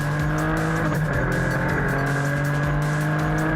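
Historic endurance race cars, a Ford GT40 and a Porsche 911 RSR among them, running three abreast into a hairpin, a loud sustained engine roar with shifting tones as several cars pass close together.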